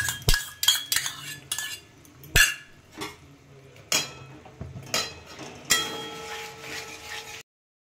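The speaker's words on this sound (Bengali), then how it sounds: "এবারে আমি একটু দইকে ভালো করে ফেটিয়ে নিয়েছি, দিয়ে দিচ্ছি।" A spoon clatters and scrapes in a pan as beaten yogurt is added to cooking masala and stirred, giving a series of sharp metallic clinks and knocks at an uneven pace, close up, with no talk.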